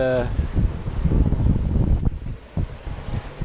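Wind buffets a sailboat on a sunny day at sea, about 10-11 knots, a steady rushing roar with wave wash, gusting against the microphone, continuous and close throughout.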